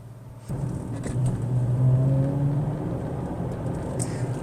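Rover 75 car driving along, a steady low engine hum and road rumble that rises near half a second and holds evenly, with no talk over it.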